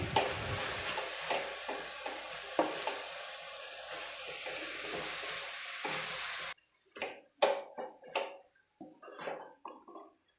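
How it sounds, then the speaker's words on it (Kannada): Chopped greens for a soppina palya fry in oil in a pan with no added water, giving a steady loud sizzle with stirring scrapes, then an abrupt drop to quieter, scattered stirring clatter. "ಹಾಗೆಯೇ ಎಣ್ಣೆಲೆ ಫ್ರೈ ಆಗ್ತಿದೆ"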